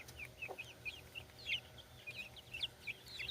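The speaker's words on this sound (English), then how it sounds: "I don't know how that little rooster stayed in the flock" Americana chickens and a small rooster in a backyard free-range flock cluck softly in a rapid, irregular series of short calls, fairly quiet over a low background hum.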